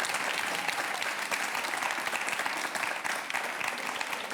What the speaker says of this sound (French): À l'applaudir.